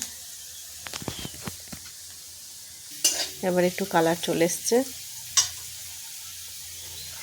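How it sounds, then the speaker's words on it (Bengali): Turmeric fries with potatoes in a pan for a sabudana dish, a quiet sizzle with scattered sharp clicks of a spatula stirring, and someone speaks briefly partway through. "ভাজা ভাজা করব একটু হলুদটাকে।"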